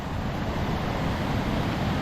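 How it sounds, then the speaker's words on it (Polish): Rushing water from a river with cascades and a waterfall in Norway, a steady broadband roar that holds evenly throughout, heard from a little distance with no voices. "jest kolejna piękna rzeka z kaskadami i wodospadem"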